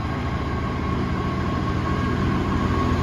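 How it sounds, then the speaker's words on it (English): A DB Class 66 freight locomotive, number 66032, with its wagons passing on the Marston Vale Line, a steady heavy rumble of engine and rolling wheels, close and continuous throughout with no speech. "Right, we have a freight train passing through."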